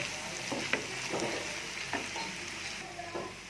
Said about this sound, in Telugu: ఇప్పుడు మొత్తం కలిసేలాగా బాగా కలుపుకోవాలి